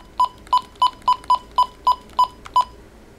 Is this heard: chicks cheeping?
no